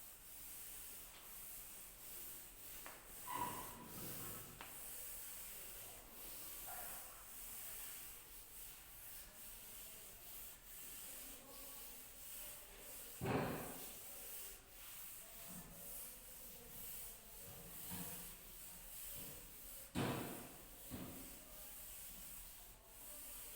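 Writing being rubbed off a classroom board during an English revision lesson, coming as a few short scrubbing bursts amid steady background hiss, with no talking.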